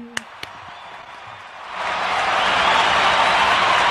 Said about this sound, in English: Again, that requires some applause.